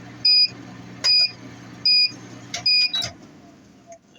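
A CNswipower inverter under full load of about 2,700 watts, with an induction cooker running, sounds an overload alarm: four short, high, electronic beeps evenly spaced under a low background hum, followed by quieter clicks as things shut off.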